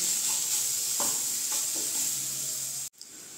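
Chicken frying lightly with salt and turmeric for a Bengali chicken paratha, a close, even sizzle with a few soft stirring scrapes before it suddenly cuts off.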